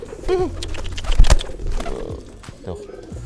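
Pigeons coo in a loft during courtship, with a rolling, throaty call near the start and softer coos later, mixed with close conversation and some handling thumps.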